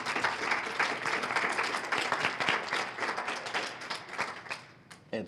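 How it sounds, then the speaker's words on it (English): Audience applause for a panel of speakers at a discussion event, a sustained roomful of clapping that stays steady for several seconds before tapering near the end. "So can we give the round of applause to our panelists,"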